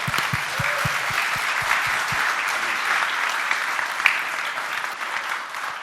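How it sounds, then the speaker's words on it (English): Keynote crowd at a gutter industry summit breaks into loud, sustained applause for the full stretch, with a few deep thumps early on beneath the dense clapping. "Let's give her a round of applause."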